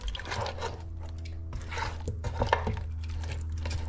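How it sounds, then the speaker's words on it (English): Buffalo sauce being stirred in a pan, with scraping and clinking of a utensil against the pan in uneven bursts over a low steady hum, close and moderately quiet. "let's just give it a good stir, mix it all in"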